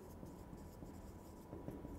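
A pen scratches steadily across paper while a math solution is written out, soft close strokes continuing throughout at a very low level.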